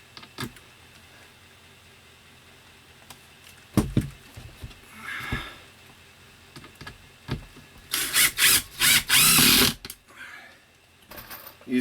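A power drill drives self-tapping screws into OSB boards on a tiny house bedroom wall, with short whirring bursts separated by quiet handling and a cluster of loud, close drilling near the end.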